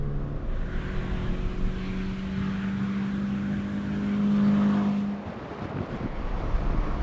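A Scion FR-S with an automatic transmission and paddle shifters on a race track, its engine holding a steady droning tone that climbs and swells before dropping away as it shifts, heard from inside with no talking.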